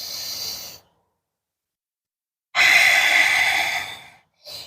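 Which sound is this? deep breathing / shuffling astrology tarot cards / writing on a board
deep breathing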